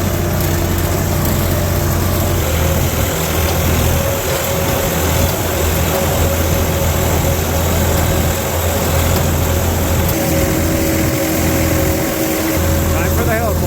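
A tractor engine holds a steady, loud drone at PTO speed, a constant rumble with an even pitch running throughout without a break.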